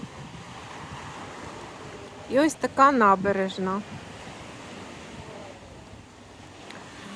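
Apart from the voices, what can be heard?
sea waves on a stony beach in Odesa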